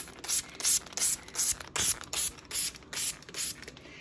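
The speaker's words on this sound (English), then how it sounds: "I would spray up toward the underside of the leaves and the flowers" A spray bottle misting the undersides of a plant's leaves and flowers while treating spider mites: about nine quick, even spritzes in a steady rhythm, close and fairly soft.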